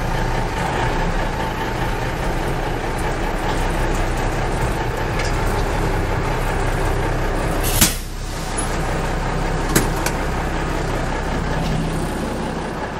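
A 1980 Autocar Constructor truck pulling a trailer down off blocks, a steady heavy diesel rumble throughout with a sharp clunk and a second, smaller knock as the load shifts, no talk.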